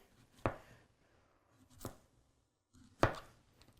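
A custom Japanese-style kitchen knife push-cutting through food on a board, giving three separate crisp chops spaced about a second or more apart, close and clear with little else around them.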